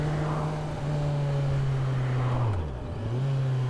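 A 2024 Kawasaki Z900 motorcycle engine revs hard and close, holding a high steady drone before dipping sharply as it eases off, then climbing back up to a strong whine.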